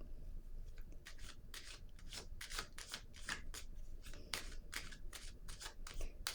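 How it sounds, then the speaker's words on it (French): Tarot cards being shuffled and laid down one after another, a steady run of crisp riffling and slapping strokes, close and moderately quiet, with no talking. "je vais déposer encore une carte ici"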